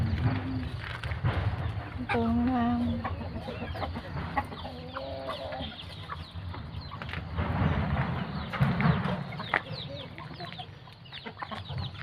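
Chickens cluck repeatedly at close range in a rural forest garden in the morning, with short tonal calls and scratchy movement, while a person talks intermittently.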